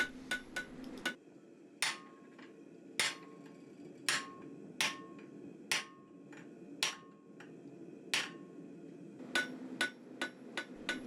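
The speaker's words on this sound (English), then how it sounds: "Draw out at the vise, go to the anvil and dress it until the spur for your poker end is complete." Hammer blows on hot steel at an anvil while dressing the spur of a poker during blacksmith forging, sharp ringing strikes in irregular groups of one to three, with a faint steady hum of a gas forge beneath.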